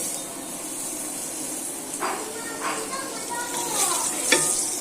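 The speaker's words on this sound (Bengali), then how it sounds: "এখন আমি দিয়ে দিব আলুগুলো ডিমের মতো ভালো করে ভেজে নেব।" Potatoes frying in hot oil for egg khichuri, a steady close sizzle with stirring and scraping bursts rising toward the end, no talking.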